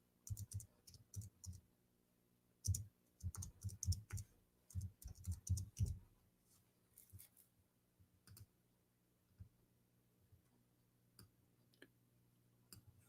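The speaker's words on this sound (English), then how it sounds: "I'm typing in English." Quiet bursts of typing on a computer keyboard, with rapid clustered clicks for the first six seconds, then only a few scattered keystrokes in near silence.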